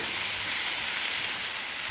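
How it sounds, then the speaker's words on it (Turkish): Food frying in a hot pan, seasoned with salt, black pepper and red pepper, gives a steady, loud, dense sizzle that runs unbroken and close throughout. "Bunları da güzel böyle kavuracağım."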